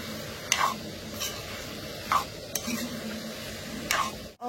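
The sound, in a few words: pork frying and stirring in a wok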